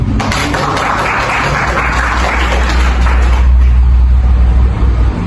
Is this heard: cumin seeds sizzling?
no